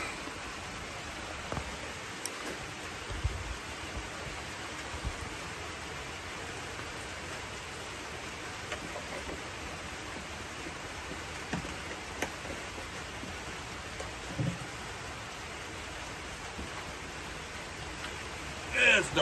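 Steady rain pours down in an even, unbroken hiss throughout, with a few faint knocks and rustles nearby.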